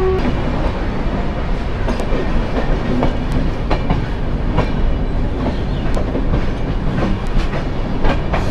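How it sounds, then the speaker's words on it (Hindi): Wheels of the Ashram Express clatter over rail joints from inside a first-class AC coach, a loud continuous rumble with repeated clickety-clack beats and no voices. "ट्रैक्स की आवाज़ काफ़ी आ रही है।"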